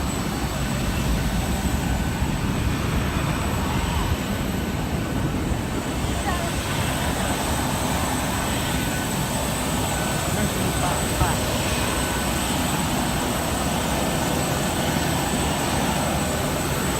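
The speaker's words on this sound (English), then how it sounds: "So we're boarding the plane." Steady, loud engine roar from a Ryanair Boeing 737-8AS(WL) during boarding at London Stansted, continuous and unbroken throughout, with faint indistinct voices in the background.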